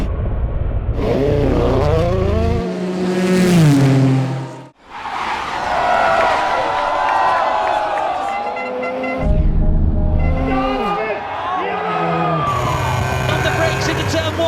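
Race motorcycles roar off the line at the start of a MotoGP race in Montreal, a loud sustained engine howl with rising pitch sweeps as the bikes accelerate and shift, under continuous excited commentary.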